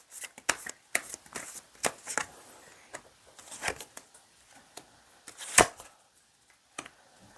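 Tarot cards are shuffled and drawn at close range, giving a run of sharp riffles, slaps and flicks in irregular bursts with brief quiet gaps and no talking.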